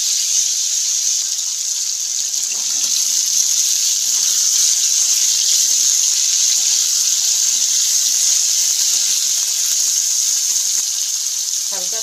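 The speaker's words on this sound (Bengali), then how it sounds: "একটু ভালো করে আলুগুলো ভেজে নেব।" Cut potatoes frying in hot oil in a pan, a loud continuous bright sizzle and hiss holding steady throughout, close up with no pauses.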